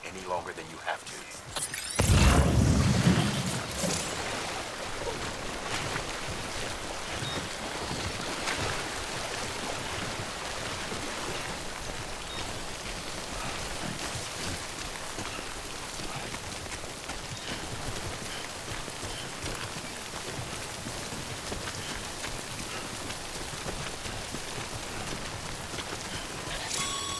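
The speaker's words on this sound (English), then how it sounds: "Don't stay out in the rain any longer than you have to." Steady, dense timefall rain hisses throughout a Death Stranding game scene, following a brief louder burst near the start.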